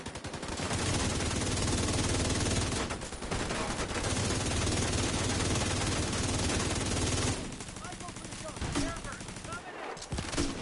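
Dense automatic gunfire from a video game battle, rapid and continuous bursts rattling for several seconds, then thinning out to scattered shots and quieter ambience near the end.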